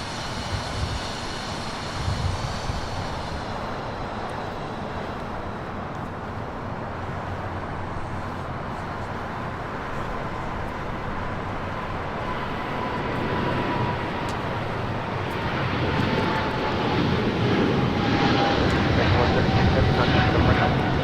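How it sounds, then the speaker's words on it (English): An American Airlines Boeing 777-300ER takes off, a sustained engine roar building gradually and growing louder and brighter toward the end, with a thin whine sliding across it and people talking over the noise. "That is American Airlines Flight 136 taking off to London Heathrow on a 777-300ER."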